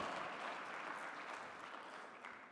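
Applause at a presidential inauguration ceremony, a soft, fairly distant spread of clapping from the gathered audience, steady and continuous throughout.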